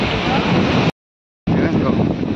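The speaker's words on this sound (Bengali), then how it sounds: "দেখেন ওই সমুদ্র ঢেউটাই আছে" Sea waves and wind roar on a beach as a broad, steady wash of surf noise with wind buffeting the microphone, cut by a brief gap of silence.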